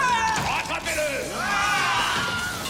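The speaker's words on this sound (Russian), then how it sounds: "мы слышим знакомый крик, и это крик Вильгельма." A sharp, dramatic male scream rising and falling in pitch, the Wilhelm scream stock film effect, followed by shouting voices and commotion.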